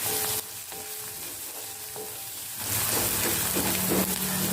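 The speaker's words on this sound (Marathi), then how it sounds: "मिरच्या आणि कांदा आता आपल्याला पण परतवून घ्यायचा आहे" Onions and green chillies sauté in a hot pan for an egg keema masala, producing a continuous close sizzle that swells louder partway through, with faint stirring scrapes and no talking.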